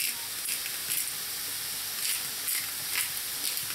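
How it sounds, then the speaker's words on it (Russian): Carrot frying lightly in a pan for buckwheat soup with meat, a steady soft sizzle and hiss with faint periodic stirring swells, close and even throughout. "морковь. Тоже обжариваем слегка"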